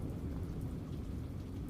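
Rain falls with thunder in Dogon country, Mali, a soft, steady patter and wash with a deep low rumble beneath, quiet and continuous and with no voices.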